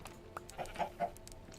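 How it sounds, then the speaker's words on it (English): Minecraft chickens on a chicken farm give a few short, quiet clucks in quick succession, faint against a soft game background. "So these are the chickens in this part."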